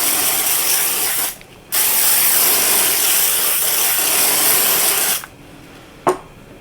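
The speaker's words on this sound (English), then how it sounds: "we're going to go back in with the hairspray." Hairspray hisses from an aerosol can onto hair during an alopecia camouflage routine. Two long, loud, close bursts are split by a brief pause, followed by a short final puff, with no talking.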